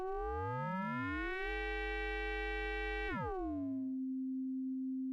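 A modular synthesizer sine wave with its amplifier envelope attack raised; clear pitched tones sweep and glide, then settle into a steady sustained note that continues alone to the end.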